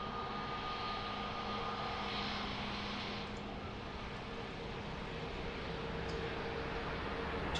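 An Airbus A321 rolls off runway 02 at Lisbon Airport just after landing, engines still in reverse thrust: a loud, steady jet roar that holds for the whole stretch with no pauses and no voices.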